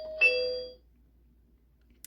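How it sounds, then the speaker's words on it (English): A toy doorbell on a Barbie Totally Real House from 2005 gives a single bright electronic chime that rings out clearly and fades over about half a second, leaving near silence. "and the doorbell really rings."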